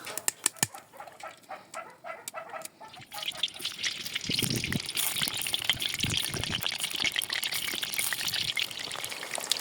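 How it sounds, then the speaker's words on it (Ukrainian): Potatoes frying in plenty of oil in a kazan over an open wood fire: a few sharp crackles give way to a steady, loud sizzling hiss that holds to the end. "Картопелька має повністю в ній погрузитися і гарненько обсмажитися."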